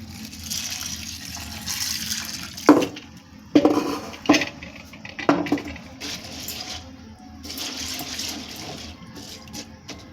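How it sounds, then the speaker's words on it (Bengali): Tapioca pearls being rinsed in a bowl of water, with steady swishing and sloshing of water punctuated by a few sharper clinks and splashes against the container. "চলুন এখন সাবুদানাটা আমি ধুয়ে নেব।"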